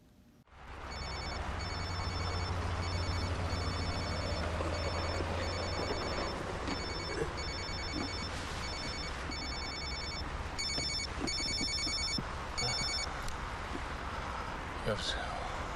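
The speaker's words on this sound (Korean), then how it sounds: "그 사이에 선영에게 전화가 걸려옵니다" In a movie, a telephone rings with an incoming call, giving repeated bursts of electronic ringing in a steady rhythm over a dull background hum, with speech running underneath.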